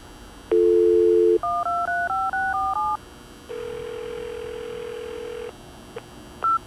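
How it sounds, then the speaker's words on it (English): A telephone redials a number in the video game CSI: Dark Motives: a sustained dial tone, then a quick run of about eight paired DTMF keypad tones, a pause, and a long ringback tone ending in short clicks. "Let's try redialing it."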